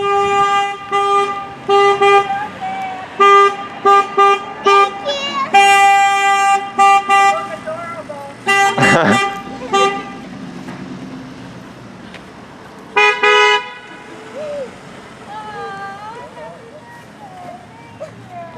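Vehicle horns honk during a birthday drive-by parade with a fire truck, police car and neighbors' cars, loud repeated toots and longer blasts in bursts, with people talking and calling out between them.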